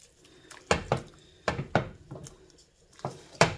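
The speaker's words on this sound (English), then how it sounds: "So I'm just going to stir" Tortellini and zucchini being stirred in a pot, giving several distinct knocks and scrapes of a utensil against the pot in irregular bursts, close and fairly clear.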